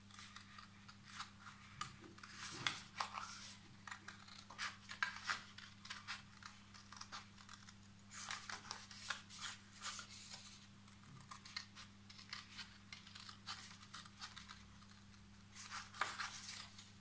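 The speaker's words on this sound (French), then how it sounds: "Donc avec le cutter ou vos ciseaux." Paper is cut with scissors or a cutter while a template sheet for making bows is prepared, producing a series of close, crisp snipping and rustling sounds at irregular intervals over a faint steady hum.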